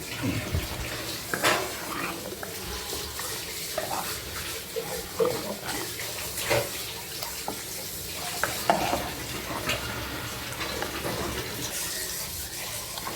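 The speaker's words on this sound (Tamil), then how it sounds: "மசாலா போட்டு நல்லா வதக்கும்." Masala being sautéed in a pan for a dried fish curry, with steady sizzling and frying plus repeated scraping and stirring of a spoon against the pan, close and continuous, with no talk.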